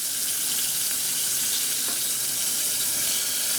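Armadillo meat frying in very hot grease, a dense, steady crackling sizzle that fills the whole stretch, close and even, with no voices.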